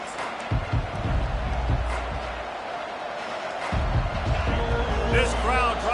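Stadium crowd roar at a football game after a touchdown drive, a broad continuous wash of noise with a commentator talking over it.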